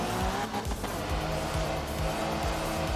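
Mini rally car in the video game Art of Rally, its engine revving loudly with repeated rising gear sweeps and squealing tires throughout, no talking.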